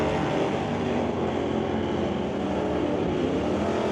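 Drag racing cars launching side by side at an NHRA Northwest National Open event, including a Superstock Camaro, with a loud sustained engine roar steady across the whole stretch.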